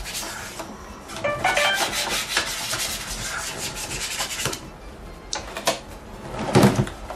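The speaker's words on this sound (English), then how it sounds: "this thing is also good for buffing out and polishing, giving your console that brand new store-like shine" Cloth rubs briskly over the plastic shell of an N64 console while buffing and polishing it, close and loud, with rhythmic scrubbing strokes, short pauses and a few light knocks.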